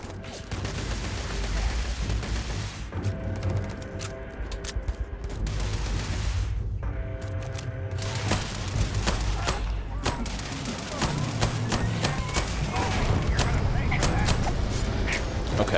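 Gunfire in Starfield, rapid bursts of shots crackling in clusters over steady game ambience, with a person talking at times underneath.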